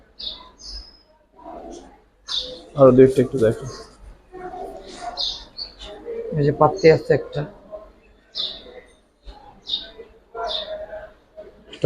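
Giribaz high-flyer pigeons in a loft give short, high chirps and soft calls scattered through the scene, while someone talks close by over them.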